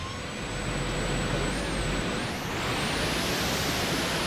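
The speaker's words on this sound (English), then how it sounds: "You'll notice that the truck is a bit louder here." In the video game The Infected, a truck engine drones loudly and steadily as a broad rumbling hiss, with a whining tone that rises in pitch partway through as the truck speeds up; no talking.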